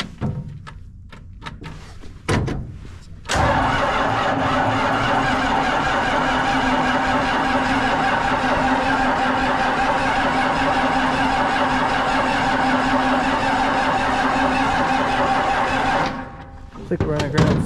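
A farm engine cranks over steadily for about thirteen seconds while someone tries to start it on a winter farm, loud and continuous, with brief knocks and thumps before and after.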